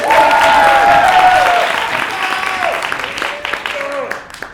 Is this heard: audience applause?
yes